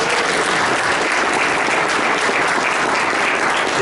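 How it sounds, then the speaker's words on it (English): A room of Rotary club members gives a warm round of applause, dense and steady clapping from start to finish with no voices over it. "Mike Morrison, who's a South Rotarian, a warm round of applause and a thank you"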